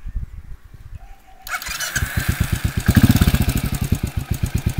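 Royal Enfield GT motorcycle engine with a vibration reduction plate fitted, starting up and settling into a steady, close thumping idle with an even pulsing rhythm.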